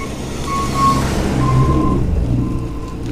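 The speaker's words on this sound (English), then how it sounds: "it's playing its I'm going backward sound" A school bus rolling forward along narrow sidewalk-like roads in a park sounds its reversing alarm: steady, loud electronic beeps that repeat in long pulses over a continuous low engine and road rumble.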